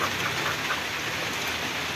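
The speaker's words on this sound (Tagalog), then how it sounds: "Lumalakas na kayo ulan eh." Heavy rain pouring steadily, a dense, even hiss of drops hitting surfaces close by with no pauses.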